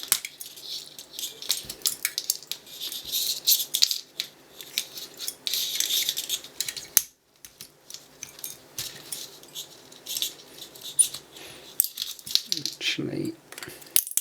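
Potting compound being peeled and picked off a 12V to 5VDC 3A voltage converter, with faint irregular scratching, crackling and tapping close to the microphone and some quiet talk.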